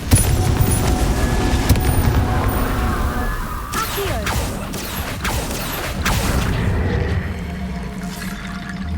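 Spell impacts and explosions in the video game Hogwarts Legacy give a busy run of crashes and bursts, with sharp broadband blasts clustered in the middle and mechanical clatter and debris around them.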